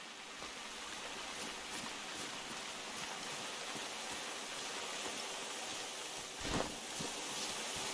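Heavy rain falls steadily in the hunting game theHunter: Call of the Wild, a dense, even hiss with a brief louder gust near the end.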